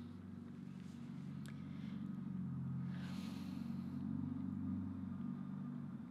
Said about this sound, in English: Goddamn traffic, shut up.